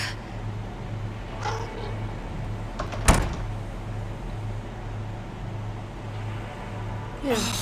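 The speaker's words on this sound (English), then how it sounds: "I'm closing my door" A bedroom door is pushed shut with one sharp, close thud midway through a quiet room. Faint brief squeaks come before it and again near the end.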